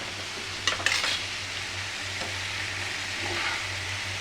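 Bitter gourd frying in a pan with turmeric and salt, a steady low sizzle running throughout, with a couple of brief utensil clinks near the start.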